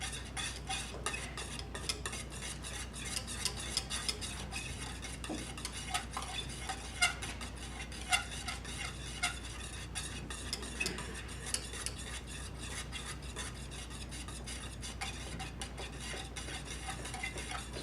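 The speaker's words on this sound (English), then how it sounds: "Kind of like the whisk do the work, and you'll start to feel it on the bottom of the pan" Cheese sauce whisked in a pan, a steady fast scraping and ticking of the whisk against the pan bottom that runs continuously, quiet and close, with no talking.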